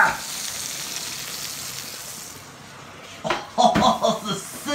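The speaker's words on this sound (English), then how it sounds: "Oh, the sizzle!" Stuffed chicken sizzling in a frying pan, a steady hiss of frying that is loud at first and then eases, with voices breaking in near the end.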